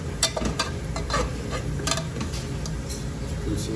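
Onions fry in a pan for mutton curry with potatoes, a steady close sizzle broken by repeated scraping taps of a spoon stirring against the pan.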